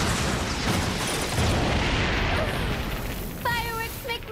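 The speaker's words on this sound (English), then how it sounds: "Fireworks make me all tingly inside." Fireworks burst in an animated Batman episode, a series of muffled booms and crackling pops over a busy soundtrack, followed by brief cartoon voices near the end.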